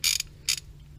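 A ratchet with a 1 1/16 inch socket loosening the oil filter cartridge on a 2021 Kia Telluride, heard as two short close buzzing clicks of the pawl separated by a brief pause.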